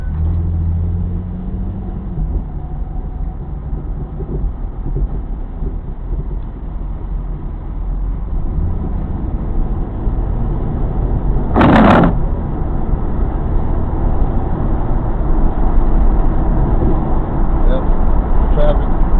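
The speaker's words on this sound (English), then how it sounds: "traffic going westbound, just from other plants, and people going home from New Orleans" Steady westbound road traffic on a highway carrying plant workers and commuters heading home from New Orleans, a continuous low rumble of passing cars with a brief sharp noise burst partway through.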